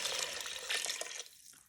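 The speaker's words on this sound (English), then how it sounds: "and add in the water." Water poured into the pot of a Ninja Foodi pressure cooker over browned spaghetti bolognese ingredients, a brief close splashing pour that runs steadily for over a second and then tapers off, with no talking.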